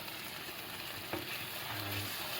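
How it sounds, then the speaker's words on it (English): Meatballs and garlic frying in a pan, a soft steady sizzle with a single brief knock of a utensil during a quick stir, quiet and close, no talking. "a quick stir"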